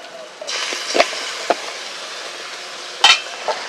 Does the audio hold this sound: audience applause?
no